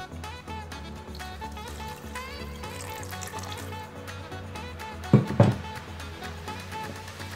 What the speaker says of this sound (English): at this point, you'll add in some more water.